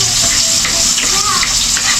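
Onion and ginger hit hot oil in a pan, a loud, dense, continuous sizzle close by with a brief stir partway through.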